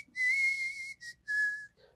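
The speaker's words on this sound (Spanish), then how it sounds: "el silbido es de mi padre" Clear, close whistled melody from a man in a song, three sustained pure notes separated by short gaps, with a brief higher trailing tone at the end and near silence around them.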